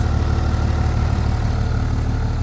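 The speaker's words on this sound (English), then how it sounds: "This is a 2005 Thomas built bus. It has a Cummins, what is it, the ISB, I believe" A 2005 Thomas Built school bus with a 24-valve 5.9-litre Cummins ISB diesel idles close by, a loud, smooth, steady low rumble with an even throb and nothing else over it.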